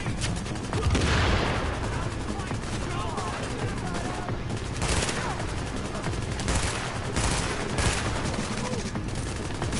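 Heavy bursts of automatic gunfire and explosions in the video game The Division, with repeated volleys over a loud, busy firefight and a voice talking faintly beneath it.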